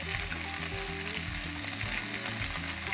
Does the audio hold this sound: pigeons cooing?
no